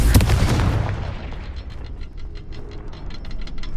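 A Confringo fire spell cast in the Hogwarts Legacy video game: a loud burst at the start decays into a lingering crackle with light mechanical ticks, with no voices.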